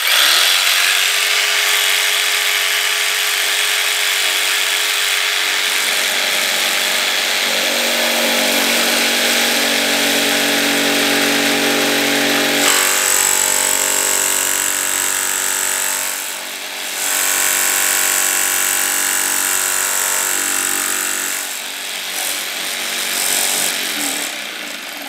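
A power saw fitted with a wood-and-steel blade cuts through black and gold screws, a loud continuous whine and grind that shifts pitch partway through as the cut bogs and the speed changes.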